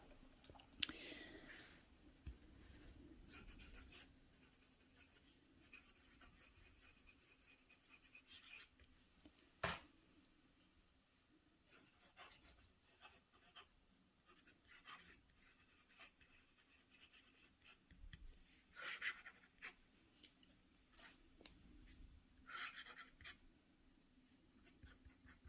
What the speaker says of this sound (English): I'm going to take it even a step further and literally just write side by side.